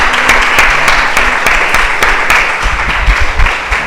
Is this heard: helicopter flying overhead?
no